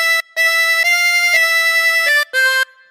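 A harmonica plays the second phrase of God Save the Queen, several held reedy notes in a steady melodic line, close and bright, split by brief breath gaps, solo.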